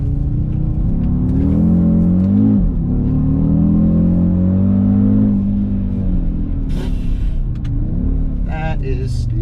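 An Audi RS Q3 drives on an open road, its engine droning low and steady with rising and falling revs under close road rumble, while someone talks over it and a few sharp clicks sound near the end.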